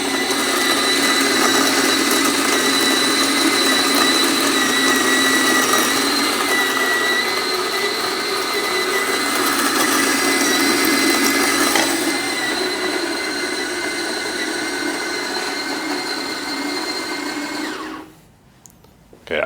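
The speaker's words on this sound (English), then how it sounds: "We'll see if it grinds all the beans within 30 seconds." A Fellow Opus coffee grinder grinds espresso beans with a loud, steady, high-pitched whir that holds for most of the span, then cuts off abruptly near the end.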